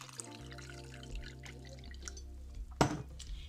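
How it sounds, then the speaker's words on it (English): Water poured into soursop pulp for juice, a brief loud splash near the end over a low steady hum and faint clinks, close by. "Now I'm gonna put about 2 cups of water in this"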